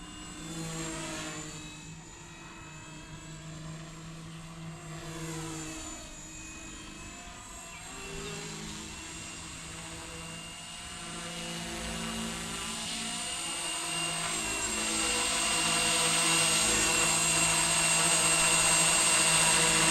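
A Blade 250CFX RC helicopter with a three-blade head and 250mm blades whirs and buzzes continuously, its high whine shifting in pitch and growing louder toward the end as it flies nearby.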